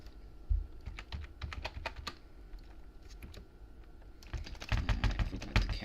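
Fingers tap on a wobbly computer keyboard in quick, uneven bursts of clicks, close and fairly quiet, with a short lull before a busier run of keystrokes.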